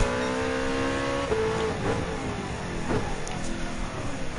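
A 1963 second-generation Corvette Stingray race car in Gran Turismo 7 at Le Mans, its engine droning steadily at high revs with shifting pitch as it runs along the track, continuous and fairly loud with no talk.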